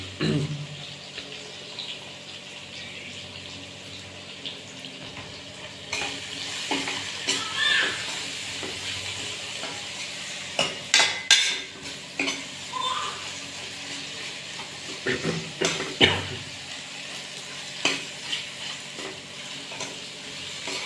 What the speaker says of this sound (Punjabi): ਬਸ ਪਿਆਜ਼ ਆਪਣੇ ਬਣ ਚੱਲੇ ਜ਼ਿਆਦਾ ਨਹੀਂ ਭੁੰਨਣੇ ਹੈਗੇ ਆਪਾਂ ਨੇ